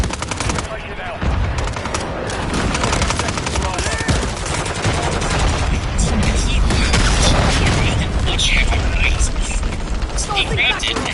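Loud, continuous automatic gunfire rattles through a Call of Duty Modern Warfare 3 firefight, dense and rapid with heavy booms and rumbling mixed in, while voices shout over the battle.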